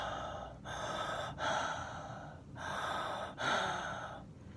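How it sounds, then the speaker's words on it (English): Heavy panting from a monster character with an overbite, a mouth breather, comes as four long, loud, rough breaths in a slow rhythm, close up with brief gaps between them. "Herbert's panting was kind of scary"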